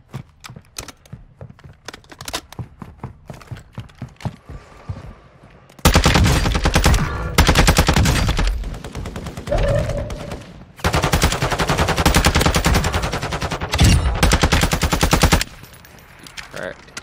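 Gunfire in Call of Duty Warzone 2 on Ashika Island, light rapid taps at first, then long loud bursts of automatic fire broken by short pauses.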